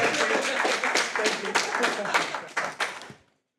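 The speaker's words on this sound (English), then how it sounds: "Applause, applause." A short burst of clapping from a small group, brisk and fairly close, that stops abruptly.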